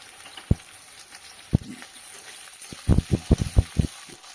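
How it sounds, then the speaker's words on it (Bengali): Potato pieces hit hot mustard oil tempered with kalonji in a pan, giving a steady sizzle broken by sharp clinks and a rapid run of scraping stirring knocks near the end. "আবার আমি সর্ষের তেল দিচ্ছি এখন কালো জিরে ফোড়ন দিলাম প্রথমে আমি আলুগুলো দিয়ে দিচ্ছি"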